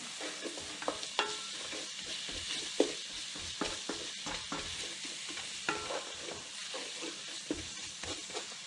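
Salt and pepper stirred into a sizzling pan for Flemish carbonnade, a low continuous hiss broken by frequent spoon scrapes and taps, close but fairly quiet, with no talking.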